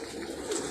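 A pigeon, a Teddy or Firozpuri breed, sits on a furniture-shop rooftop and gives a single soft, faint coo. The sound is brief and low against light background noise.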